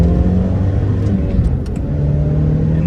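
A Ford Mustang EcoBoost accelerates hard, its engine note steady and loud from the cabin, with continuous low rumble and road noise and a brief dip partway through.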